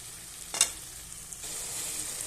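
Tomato masala made with tomato sauce fries in oil in a pan, a close, steady sizzle with a brief stirring scrape near the start.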